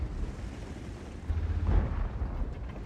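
A HESH tank round fired and striking in the Cobra tank game, a deep rumbling boom that swells in the low end amid a continuous heavy battle din, moderately loud with no talking.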